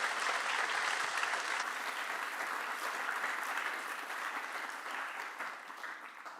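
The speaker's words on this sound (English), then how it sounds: "let's have a round of applause and welcome for Dr." An audience at a talk gives steady applause welcoming Dr. Mary Knapp, a research scientist at MIT Haystack Observatory, a full, even clapping from a crowd that slowly tapers off.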